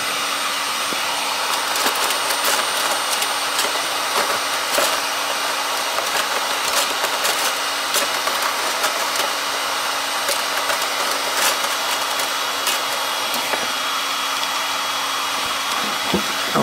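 A heat gun blows a steady loud roaring airflow across a mobile phone circuit board while components are desoldered, broken by scattered sharp clicks and taps throughout.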